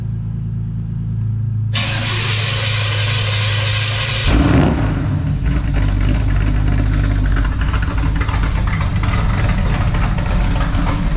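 A Nissan 350Z fitted with a high-lift cam, fast fuel injection and an aftermarket exhaust fires up loudly, then settles into a rough, lumpy, steady idle close by with a brief surge partway through.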